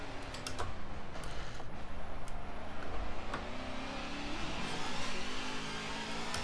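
Simulated race car engine in Forza 7, driven with a wheel, droning steadily with pitch dips and rises as it lifts off, brakes and shifts down gears, plus faint clicking ticks on top, with no talking.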